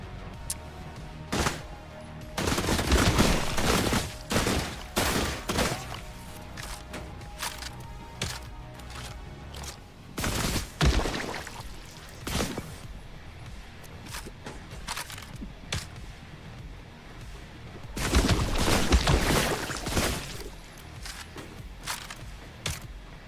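Gunfire in the video game The Last Caretaker: loud bursts of rapid automatic shots arrive in clusters, with single cracks and quieter gaps between the heavy volleys.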